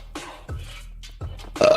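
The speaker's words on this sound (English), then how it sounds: "That's the too much coffee burp." Several loud, close burps from a man after too much coffee, three or four guttural belches in quick succession with short gaps, the last one strongest.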